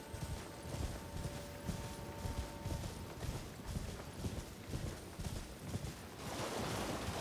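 Horse hooves clip-clopping at a steady rhythm while riding through the Cerulean Coast in Elden Ring: Shadow of the Erdtree, close and continuous, with wind or water ambience swelling near the end.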